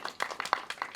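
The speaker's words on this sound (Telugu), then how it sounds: "గట్టిగా చప్పట్లు కొట్టండి." Audience at a film press meet clapping in a brief, sparse burst of several distinct claps, moderately close, with no talk over it.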